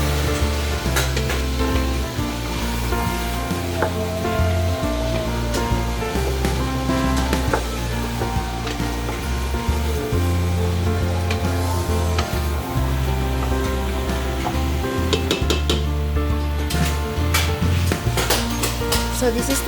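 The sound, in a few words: celery and vegetables frying in a pot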